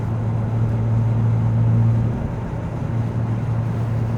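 A car with a homemade exhaust system drones at steady revs, a loud, close low rumble with a slight swell in the middle and no voices.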